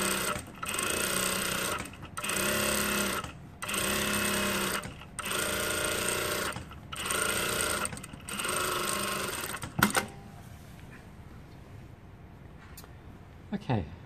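A sewing machine stitches around the waistband seam of tailored shorts in six loud, steady bursts of rapid mechanical whirring separated by brief pauses, then stops, leaving quiet handling noises.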